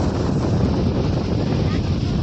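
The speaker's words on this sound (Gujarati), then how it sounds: "અહીંયા પવન બહુ જ એટલે બહુ જ પવન છે" Strong wind on a farm near Jamnagar, Gujarat, roars into the microphone, a loud, constant buffeting rumble lasting the whole clip before cutting off abruptly.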